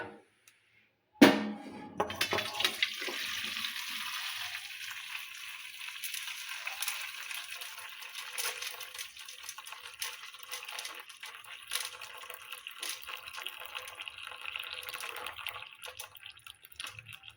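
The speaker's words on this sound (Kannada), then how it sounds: "ಈಗೇನದ ಇವು ನೀರನ್ನು ತೆಗಿತೀನಿ ನೋಡ್ರಿ. ಇವು ನೀರನ್ನು ಬಸದು ತೆಗಿಯೋದು ನೋಡ್ರಿ." Water drains off soaked ingredients for Panchami allu after a sharp knock, then runs as a long, fairly faint trickling hiss that continues steadily throughout.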